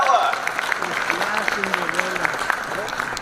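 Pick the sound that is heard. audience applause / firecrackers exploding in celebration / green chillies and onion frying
audience applause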